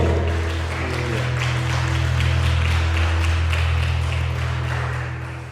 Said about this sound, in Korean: 감사 영광을 박수 올려드리겠습니다.